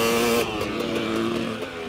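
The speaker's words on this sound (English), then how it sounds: "And he's on the rev limiter, dude. He was sitting on that rev limiter." A motocross bike engine screams steadily at the rev limiter, a loud, continuous buzzing drone close by with a slight change in pitch partway through and no talking.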